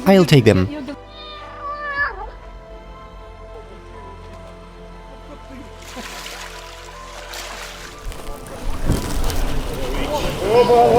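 Several cats meow and caterwaul loudly up close in flooded Kherson, with splashing water and people talking between the cries.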